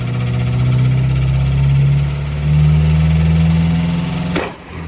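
A rough homemade car engine drones loudly and rises in pitch as it is revved, then cuts off abruptly with a sharp clunk near the end.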